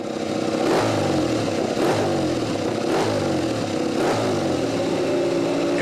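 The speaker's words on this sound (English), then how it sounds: "That's my favorite V4 sound. It's a Ducati." A Ducati V4 motorcycle engine revs hard and close, with a rhythmic series of throttle blips about once a second over a steady, loud mechanical roar. No one speaks.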